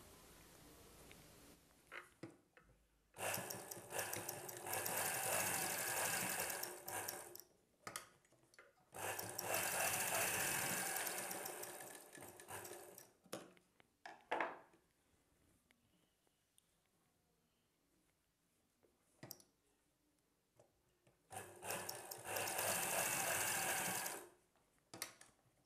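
Sewing machine stitching the front and back pieces of a hanky-style frock, running in three long bursts of steady whirring with quiet gaps and small handling noises between.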